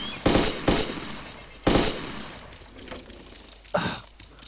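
Gunfire in DayZ, four sharp shots at uneven intervals, each with a short echoing tail, loud and close, with a soft voice faintly in the background.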